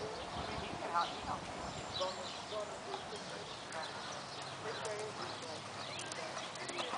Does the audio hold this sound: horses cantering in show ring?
yes